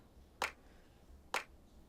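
Two crisp, bright clap hits spaced about a second apart, isolated from the rest of a house music drum mix, each a short sharp transient with a quick decay and nothing else around them.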